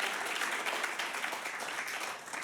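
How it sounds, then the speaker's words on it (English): Steady, moderately quiet applause from an audience at a magic show, a dense wash of clapping for two stage helpers lasting a couple of seconds. "Let's give these 2 a nice round of applause."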